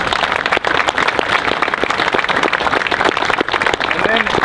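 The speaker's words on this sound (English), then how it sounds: "So I think everybody should give a huge round of applause for the professors of art." Audience applause at a school dedication ceremony honoring art professors: loud, dense clapping from a crowd, continuous and close throughout.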